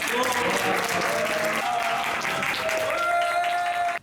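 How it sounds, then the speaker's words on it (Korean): Soldiers in a training-course classroom applaud after a team's presentation at a noncommissioned officer academy, a brisk, steady round of clapping from a group with some voices mingled in and a faint tone underneath, ending abruptly. "박수"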